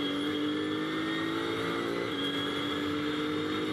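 GT2 race cars, a Porsche and a KTM, race at Spa, their engines droning in a steady, sustained tone at moderate distance, with no voices.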